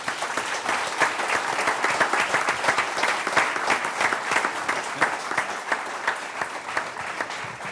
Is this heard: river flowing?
no